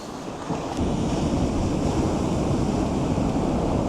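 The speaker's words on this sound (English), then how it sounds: "Big splash there." Ocean waves wash and splash against a rocky seascape shore in a continuous loud roar of surf, with wind noise on the microphone and no voices.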